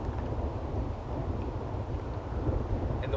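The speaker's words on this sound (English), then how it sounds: "the wind is going from my right to my left" Steady wind buffets the microphone outdoors beside water where hunting decoys are set on a bank, a continuous low rumbling roar with no break and no talk.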